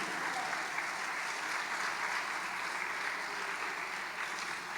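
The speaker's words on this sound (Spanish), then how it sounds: "dale un aplauso grande al Señor" Sustained applause from a church congregation fills the space, a dense, steady wash of many hands clapping at even loudness throughout, with no voices standing out.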